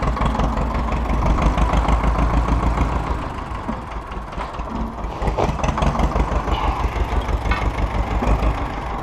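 A tractor engine idles steadily and loudly throughout, with a deep rumbling chug and a slight wavering in its rhythm partway through, and no voices over it.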